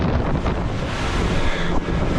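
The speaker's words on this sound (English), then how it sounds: "There's breaking waves ahead." Rough, choppy sea with breaking waves batters a small boat, a dense continuous roar of water and wind buffeting the microphone, loud and steady with no voices.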